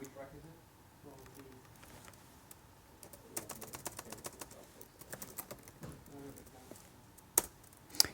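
Bursts of computer keyboard typing, irregular clusters of light clicking keystrokes up close, quiet at first then busier, with low voice and room noise underneath.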